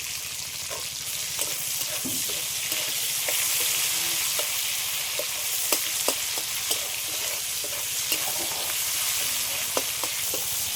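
Chopped tomato with a little salt frying in a pan of oil for a fish curry, a steady bright sizzle with clicks and scrapes from stirring throughout, close and fairly loud.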